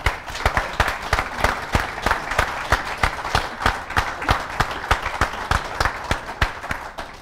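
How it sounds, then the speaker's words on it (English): Applause for young award-winning Ulster footballers seated on a couch in a Cavan hotel function room, a modest group clapping with distinct individual hand claps in a steady uneven patter, close and fairly loud throughout. "Will you just give them a round of applause, please?"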